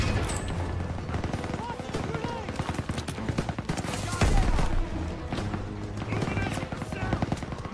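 Sustained MG-42 machine gun fire in the World War II video game Call of Duty: WW2, dense rapid bursts with heavy battle noise throughout and a louder blast near the middle.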